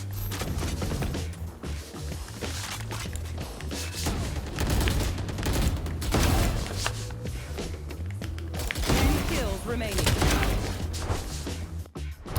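Continuous automatic rifle spray from the Phantom in Valorant, a dense, loud stream of rapid shots with overlapping impacts running throughout, no talking.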